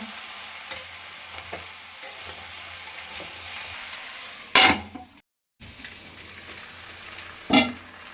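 Onion stalks frying in a pan with green chillies, a steady low sizzle with a few louder bursts of stirring, close, alone with no talk, and a brief dropout partway through.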